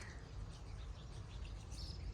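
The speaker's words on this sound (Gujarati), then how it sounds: "ચકલા બોલે છે" Faint, scattered sparrow chirps from a distance, short high tweets over a quiet outdoor background hum.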